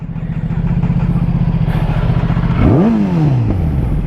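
A motorcycle engine idles with a close, steady throbbing, then revs once with a sharp rising and falling sweep as the highway ride begins.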